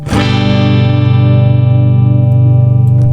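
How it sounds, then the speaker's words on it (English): A single chord struck on an electric guitar through a distortion pedal rings out loud and sustained, heavily distorted, buzzing steadily as it slowly decays. "I'll turn it on, and oh, this is the distortion."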